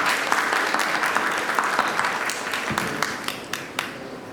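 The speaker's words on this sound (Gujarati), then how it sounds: "જોરથી તાળી વગાડે." An audience in a jamatkhana at a festival gathering claps loudly for participants, a dense sustained applause with individual sharp claps standing out, fairly close and continuous throughout.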